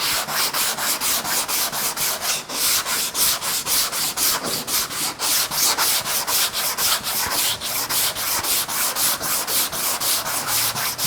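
Block sanding body filler on a 1965 Corvette with fine sandpaper: a steady, loud, rhythmic back-and-forth rasp of paper on filler, each stroke a repeating scratch, continuous throughout with no talking.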